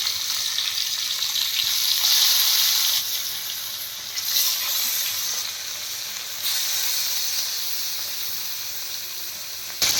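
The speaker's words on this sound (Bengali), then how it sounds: "গ্যাসটা মিডিয়াম রেখে মাছটা ভেজে নিই, বেশি আঁচ দিলে তারে মাছটা পুড়ে যাবে।" Rohu fish pieces frying in a pan over a medium gas flame give a loud, continuous hissing sizzle that swells and eases in waves, with soft stirring underneath.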